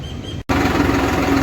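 A tractor engine running steadily on a village trip, a close, constant low mechanical drone with a brief cut near the start before the hum resumes with a faint whine.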